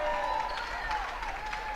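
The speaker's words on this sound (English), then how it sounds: "a big crowd, big cheer as she goes up the ladder" A big crowd applauds and cheers at a girls' regional finals high school basketball game as a player climbs the ladder to cut the net; a steady, dense wash of clapping and voices holds throughout.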